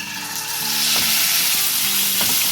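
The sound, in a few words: chicken frying in oil with garlic ginger paste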